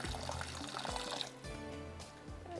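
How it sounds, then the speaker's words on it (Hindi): Cold water pours from a vessel over boiled eggs in a home kitchen, a close, steady splashing and gurgling stream that shifts in pitch as the container fills. "इसमें डालते हैं ठंडा पानी और इसको करते हैं हम ढक के यहाँ पर।"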